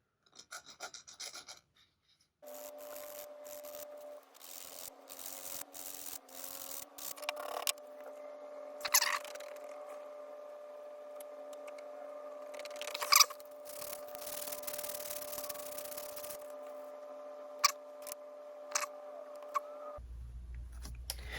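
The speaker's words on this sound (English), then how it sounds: "Got some real fine sandpaper here." Fine sandpaper rubs steadily over a part of a 228E lantern during a rebuild, a close, continuous rasping with a few sharper scuffs, under a steady background hum and with no talking.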